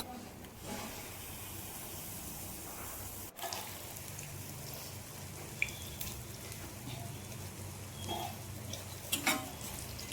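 Jackfruit pitha batter fries in hot oil in a wok, a continuous close sizzle and crackle with occasional sharper pops and spatters.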